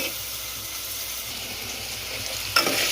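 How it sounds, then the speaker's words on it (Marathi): Onion frying in oil in a pan for a village-style mutton curry, a steady close sizzle with light stirring, ending in a brief louder burst of hissing. "आणि आता कांदा आपण परतून घेणार आहोत आळणी बनवण्यासाठी"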